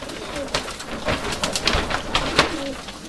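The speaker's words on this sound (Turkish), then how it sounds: "Bunlar oyunlu kuşlar." Urfa Arab tumbler pigeons coo in soft, rolling, overlapping calls close by, with a dense steady bed of fluttering and rustling behind them.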